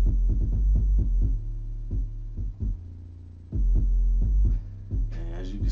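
Heavy 808 bass hits thump repeatedly through a music production mix, deep booming low-end pulses in an uneven rhythmic pattern with brief gaps, loud and upfront with no voices.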